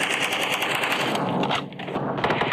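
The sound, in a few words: gunfire in a video game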